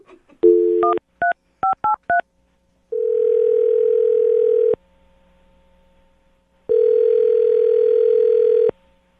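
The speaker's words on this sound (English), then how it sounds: "I'm going to dial their phone number right now." Touch-tone telephone dialing: a steady tone, then a quick run of about six keypad beeps, followed by two long, loud ringing tones separated by a quiet gap, with no talking.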